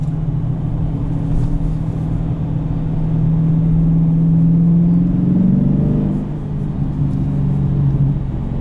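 A 2020 Dodge Challenger Scat Pack Shaker with a manual gearbox rumbles while driving on a snowy road, a deep steady engine drone that swells with throttle midway, then eases back.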